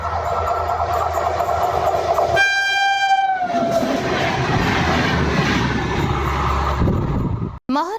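Train running at high speed on the Madurai–Bodinayakanur railway line, a loud rushing roar with a sharp horn blast partway through and rattling wheels continuing after, heard up close.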